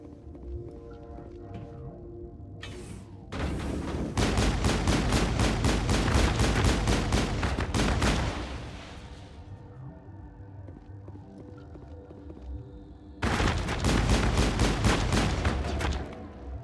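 Shotgun blasts in the Mass Effect video game come as two dense bursts of rapid, loud booming shots separated by a quieter stretch, with no voices.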